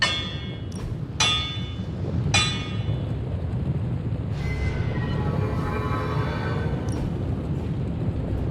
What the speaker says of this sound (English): Just gonna hammer stuff and see how it goes.